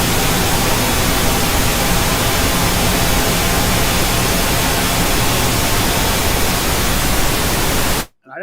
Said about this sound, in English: you can use this as a reference with the pink noise